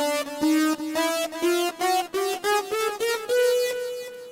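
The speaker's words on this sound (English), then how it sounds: "Just the chromatic scale." A chromatic scale played on Sequetron keys, about a dozen separate synth notes stepping steadily upward, each short and evenly spaced, clear and alone.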